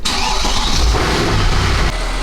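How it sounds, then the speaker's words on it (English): A Mercedes C63 AMG with the M156 V8 engine starting up: a loud, close crank catches into a deep rumbling rev that settles toward idle within about two seconds. "got both filters installed, which means only one thing left to do, which is start the car"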